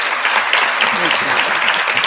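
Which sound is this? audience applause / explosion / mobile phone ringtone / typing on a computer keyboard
audience applause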